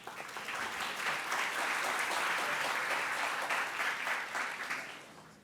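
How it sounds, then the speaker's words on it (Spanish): A university lecture audience applauds to welcome the speakers, a dense, sustained round of clapping that swells quickly and holds steady before tapering off at the end, heard alone without talk. "Un fuerte aplauso, por favor."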